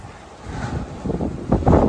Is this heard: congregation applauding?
no